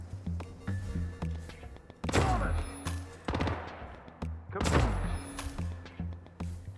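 Submachine-gun fire in Hitman Freelancer arrives as two short rapid bursts a couple of seconds apart, moderately loud over a low ambient game hum.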